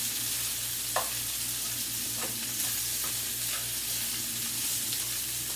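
Crumbled sausage browning in a pan for lentil soup, a steady close sizzle throughout with a few sharp scrapes of stirring scattered across it and no talking.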